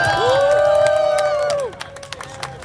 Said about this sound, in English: We should give the organizers a big round of applause for this whole event.